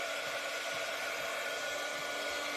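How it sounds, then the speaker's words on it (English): A heat gun melts embossing powder for a rubber-stamp embossing project, giving a loud, steady, unbroken hot-air blower roar that holds from start to finish. "I'm going to take my heat gun"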